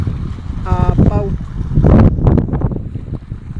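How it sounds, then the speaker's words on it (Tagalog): Strong northeast monsoon wind gusts roar against the microphone at a harbor where a boat has sunk, in loud, low rumbling bursts, with voices and brief tonal sounds mixed in. "Lakas ng hangin."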